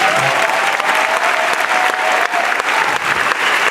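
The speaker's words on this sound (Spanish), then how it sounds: "Dale un aplauso a Marco." Steady, dense applause from a large audience at a national youth leaders' summit, loud and continuous throughout with no talk over it.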